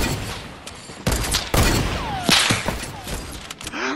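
Rapid gunfire bursts from a Fortnite Battle Royale match: loud clustered shots crack out in several volleys with sharp broadband impacts, and a voice is heard faintly in the mix.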